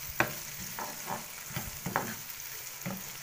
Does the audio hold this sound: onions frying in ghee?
yes